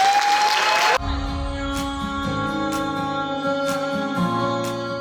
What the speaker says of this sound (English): Let's welcome Arushi and Anika with love and applause